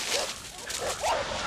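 Hunting dogs chasing a wild boar in winter give several sharp, yelping barks in quick succession, close and loud, mixed with some rustling.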